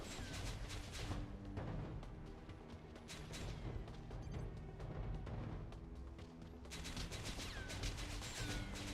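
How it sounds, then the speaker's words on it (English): Gunfire blasting through walls in Æon Flux (2005, PS2): a dense, continuous barrage of rapid shots and impacts, loud and unbroken, with no talking. "Stop shooting through the walls."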